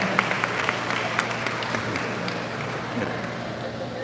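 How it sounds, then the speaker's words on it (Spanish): Applause from a Catholic teaching-event audience honoring a priest, dense scattered clapping filling the room at a steady moderate level, with some background voices mixed in. "quiero un aplauso por este santo que está sentado aquí"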